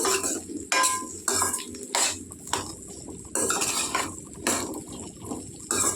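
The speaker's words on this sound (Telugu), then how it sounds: "ఇలా కలుపుకుంటూనే వేపుకోవాలండి." Green chillies fry in a pan while a spoon stirs them, giving repeated loud metallic scrapes and knocks in an uneven rhythm over a low frying hiss.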